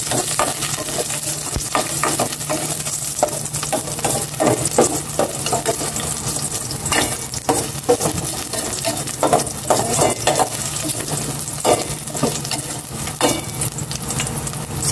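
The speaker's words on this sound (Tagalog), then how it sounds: "Maglagay na ako ng cooking oil. Ayan, ganyan lang yung cooking oil. Iwas. Taba-taba sa katawan. Igisa ko na itong bawang." Garlic sautéing in cooking oil in a pan, a loud, continuous close-up sizzle with crackling pops and occasional stirring scrapes throughout, no speech.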